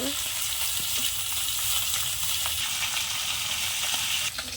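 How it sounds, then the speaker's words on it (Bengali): Fish pieces fry in hot oil in a pan, giving a loud, steady, close hiss and crackle that carries on without a break. "মাছ দিলাম, এইভাবে মাছগুলো সব ভেজে নেব।"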